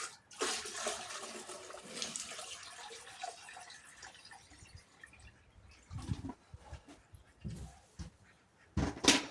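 Water pours and splashes in irregular bursts into an outboard motor test tank, fairly faint and close, for a small Neptune 2.6 HP outboard, with gurgling gaps and louder splashes toward the end.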